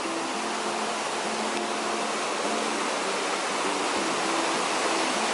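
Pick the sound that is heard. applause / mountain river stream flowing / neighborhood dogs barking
mountain river stream flowing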